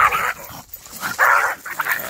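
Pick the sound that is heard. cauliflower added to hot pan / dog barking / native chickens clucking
dog barking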